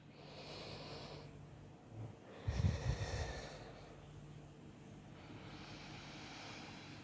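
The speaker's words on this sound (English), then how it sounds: "let's take 2 more breaths here" Slow, faint breathing during an intermediate yoga flow, a soft airy exhale rising midway then easing off over a low steady hum, close and quiet with no talking.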